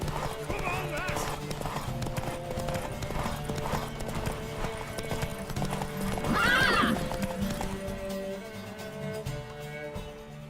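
Hooves clip-clop rapidly as a horse gallops in The Witcher 3 video game, with a loud neigh midway, under game music and voices.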